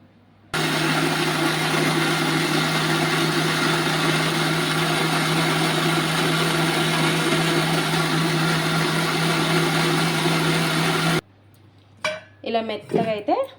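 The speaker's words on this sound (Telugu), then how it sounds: "ఇప్పుడు మిక్సీ మూత పెట్టేసి మిక్సీ అయితే పట్టేద్దాం" A mixer grinder whirs loudly and steadily for about ten seconds grinding tomato dosa batter, then stops abruptly, followed by a few light clinks.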